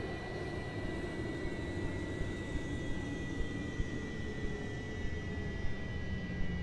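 Avro Vulcan bomber's jet engines winding down while parked, a steady loud broadband roar with a high whine tone held throughout, no voices.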